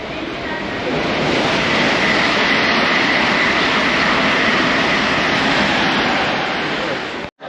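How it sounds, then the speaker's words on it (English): A non-stopping train roars past a station platform at close range, a loud continuous rumble and rushing hiss that holds steady for several seconds before cutting off. "The train now approaching platform 4 does not stop here."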